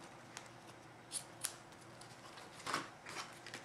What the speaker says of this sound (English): cut it at an angle